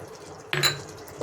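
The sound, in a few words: water poured into pan of frying mustard paste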